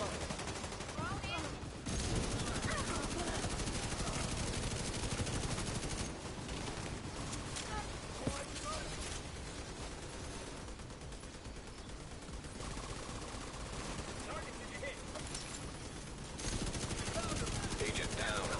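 A minigun in Tom Clancy's The Division 2 keeps firing in long, dense rattling bursts, mid-level and mixed with other game gunfire, with faint voices at times.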